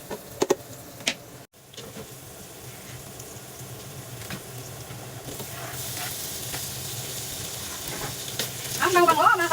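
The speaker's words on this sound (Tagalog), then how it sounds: "So, lagyan natin ng maraming sibuyas." Plenty of onions sautéing in a pot for Filipino sopas, a steady close sizzle with occasional stirring scrapes that grows louder and crackles harder toward the end, with no talking.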